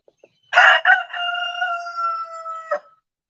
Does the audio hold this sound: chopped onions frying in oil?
no